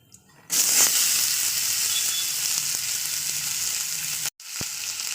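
Gathiya crackles and sizzles in hot oil in a pan, a loud, steady close-up frying hiss that runs unbroken before a brief cut near the end.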